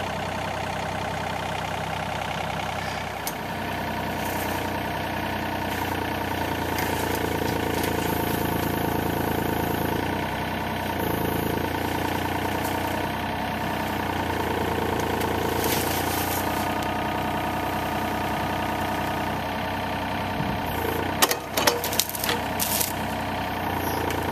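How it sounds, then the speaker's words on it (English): Backhoe excavator engine idling at a yard site where dirt and bushes are being removed, a steady mid-pitched rumble that holds throughout with a few brief clanks near the end and no talk. "We got the backhoe, or excavator, whatever."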